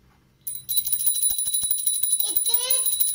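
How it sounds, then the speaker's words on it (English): A bell rings continuously with a bright, sustained metallic trill that stays loud throughout, while a voice speaks briefly over it during a classroom sense-recognition activity. "It is bell sound."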